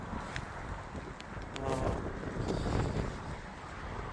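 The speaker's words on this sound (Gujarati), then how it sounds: "જોઈ શકો છો પવન બહુ છે આજે" Strong outdoor wind rumbles and buffets a microphone in low, uneven gusts, fairly faint overall and swelling slightly midway.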